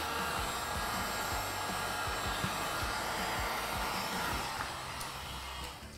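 A heat gun blows hot air over a motorcycle graphics decal, a steady, close, loud airy whoosh with a faint motor whine that softens slightly near the end, with no voices.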